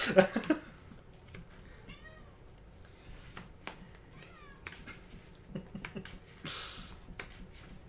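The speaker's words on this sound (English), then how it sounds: "The cat's in here if you guys can hear the cat" A cat meows a few times indoors, short rising cries spread across the stretch, mixed with clicks and taps from a card table and faint background talk.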